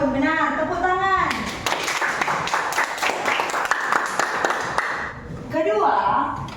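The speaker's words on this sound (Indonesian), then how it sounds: "12 tahun, benar. Tepuk tangan." Classroom applause and clapping after a correct answer in an Indonesian Bible quiz between student groups, a dense burst of many hands lasting several seconds, with voices talking before and after.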